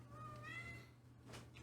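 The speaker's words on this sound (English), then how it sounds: "Just a cat." A cat meows once in a drawn-out, rising and falling call over a steady low hum, fairly quiet and close, with no talking over it.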